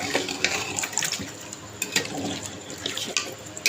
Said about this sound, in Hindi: इसमें हम पानी थोड़ा सा और ऐड कर देते हैं